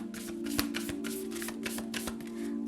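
Tarot cards are shuffled by hand in quick, riffling bursts, producing a rapid series of papery flicks over a steady low hum, close and fairly quiet.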